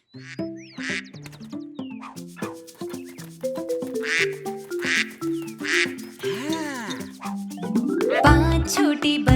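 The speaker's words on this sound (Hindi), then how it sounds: "मम्मी बतख बोली क्वाक क्वाक क्वाक क्वाक" Cartoonish duck quacks set within a bouncy Hindi children's farm-animal song, repeated in a rhythmic pattern over steady music.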